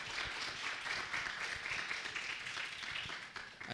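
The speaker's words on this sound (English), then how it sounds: "please give a big applause to Professor Michael Wisnom." Audience applause after a guest lecture on research paper writing, a steady wash of clapping from a crowd lasting the whole stretch, fairly faint and distant as heard from the hall.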